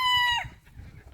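Chickens at a zoo, a sharp rising rooster-like squawk followed by a few soft low clucks, close and brief.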